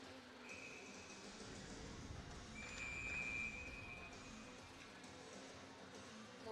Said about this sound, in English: Whistle blown, and we'll try this face-off again.